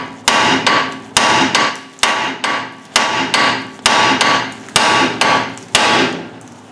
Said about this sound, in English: Leave that on there so you can hammer that and whack it out.